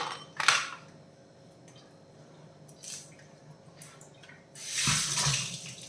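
Half a cup of soaking water is poured into a Kerala-style fish curry, giving a splashy pour at the start, a few faint drips, and then a longer splashing stream of liquid near the end, close by.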